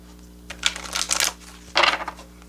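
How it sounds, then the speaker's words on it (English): Tarot cards being shuffled by hand, quick papery riffles and slides in two short bursts close by, with a faint steady hum beneath. "Get a little shuffle."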